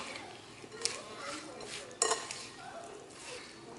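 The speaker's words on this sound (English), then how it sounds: "I am making a mess mixing this slaw." Coleslaw with salt and pepper being stirred in a bowl, giving close, soft wet mixing and scraping with a couple of sharper clinks against the bowl. A voice is heard faintly over it.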